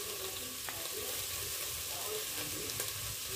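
Chicken browning in a pan while cooking khichdi, a steady broadband sizzle of frying with faint stirring scrapes, continuous and fairly close, no voices.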